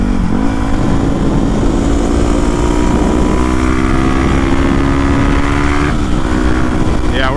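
A Honda Grom clone motorcycle is ridden at speed, its small engine droning steadily under strong wind buffeting, with pitch shifts as it changes gear, loud and close throughout.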